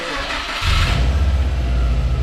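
A new Spec B car's engine turns over and catches, then settles into a steady, rumbling rev close by, with no talking.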